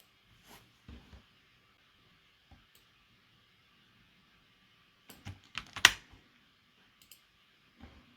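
Scattered keystrokes on a computer keyboard, a few soft isolated taps early on and then a short quicker cluster of clicks, quiet and close with long pauses between.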